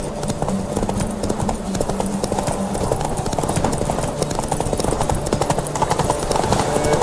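A horse gallops in The Witcher 3, with steady, close hoofbeats drumming on for the whole stretch over a low ambient game backdrop.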